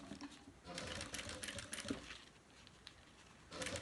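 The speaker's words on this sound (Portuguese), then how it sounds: "Não acompanha onde a agulha está batendo, mas sim onde o calcador tá batendo" A sewing machine stitches a curve while sewing a small zippered pouch, running in quiet bursts of rapid needle clatter with short pauses in between and no talking.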